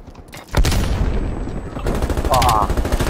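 Automatic gunfire in an online multiplayer shooter, a dense loud burst of rapid shots that runs almost the whole moment with a second volley near the end and no break between rounds.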